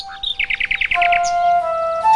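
Nightingale singing nearby, a fast run of about seven bright repeated trilled notes followed by a sustained clear whistled tone, loud and alone with no voices.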